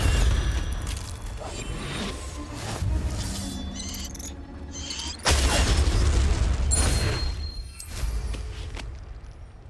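Spell explosions and magical combat booms in Hogwarts Legacy, a series of loud bursts with crackling impacts and a big blast partway through, over a dense game soundtrack.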